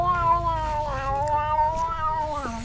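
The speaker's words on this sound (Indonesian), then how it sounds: "Kedengeran gak guys kucing ngobrol apa?" A cat lets out one long, drawn-out meow that wavers in pitch and ends on a lower note, close and clear over faint background noise.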